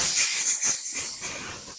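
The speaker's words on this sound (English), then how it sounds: "I'm gonna block one end with my finger and blast through the top here. Use some compressed air." Compressed air blasts in short hissing bursts through a carburetor part of a 2019 Troy-Bilt TB130 lawn mower, loud and close, pulsing a few times.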